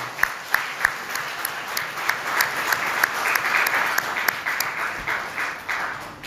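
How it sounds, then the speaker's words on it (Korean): A church congregation at a Korean church in Argentina applauds in worship, sustained close clapping from many people with a few sharp individual claps standing out at the start. "우리 하나님 앞에 영광의 박수를 한번 올려드립시다"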